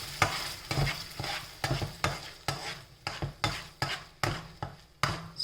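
A spoon presses and scrapes through Roma tomato in a hot pan over and over, each stroke a sharp, close scrape over a low sizzle in a fairly steady rhythm, with no voices.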